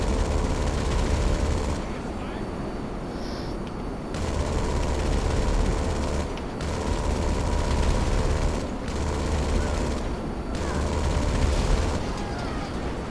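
Bursts of rapid jet cannon fire from a B-11 Strikeforce aircraft in Grand Theft Auto 5 roar continuously in long stretches, broken by short pauses, over a steady engine drone.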